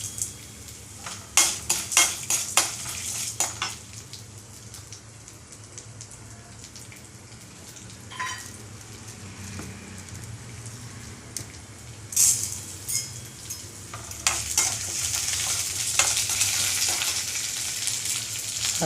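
Chana dal and urad dal roasting in a pan for pirandai thuvaiyal, with soft sizzling and scattered stirring taps and rattles, close by, swelling into a denser hiss toward the end, no talk.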